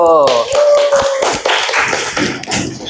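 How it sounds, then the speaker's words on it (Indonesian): Applause for a student group in a classroom, a burst of many hands clapping in a dense, uneven patter that follows a brief spoken line and continues close and loud to the end. "kita beri aplaus untuk kelompok 1"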